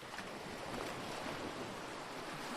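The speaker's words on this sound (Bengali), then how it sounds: "সমুদ্রের মাঝে ঢেউ ওঠে।" Sea waves rise in a Bengali children's cartoon about a mermaid as a storm gathers: a steady, dense rushing wash of surf with no pauses and no talk.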